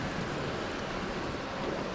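A car fords a deep river, and a steady broad rush of churning water and wind noise fills the whole stretch, loud and even with no clear breaks.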